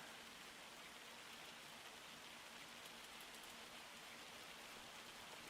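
Hail pelts down steadily in Farming Simulator 25 on the Waseca County map, a dense, even hiss like heavy rain that holds without a break and has no talk over it.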